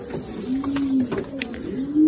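Pigeons coo softly nearby in a poultry setting, low murmuring calls repeating over faint background noise.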